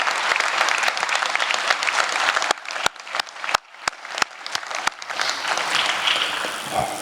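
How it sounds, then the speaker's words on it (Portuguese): Vigorous audience applause at a Faro civic event fills the room with dense, sustained clapping. A few sharp, louder individual claps ring out near the middle before the crowd noise swells again. "quero pedir um vigoroso aplauso"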